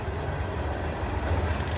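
Freight train rolling along railroad tracks, a steady heavy rumble and rattle of rail cars without a break, close by and fairly loud.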